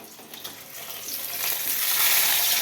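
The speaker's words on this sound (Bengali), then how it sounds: "আমার মাছ ভাজা হয়ে গেছে।" Small fish sizzle in hot oil in a pan, a steady crackling hiss that grows louder and brighter as the frying continues, with no voices.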